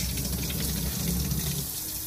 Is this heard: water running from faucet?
yes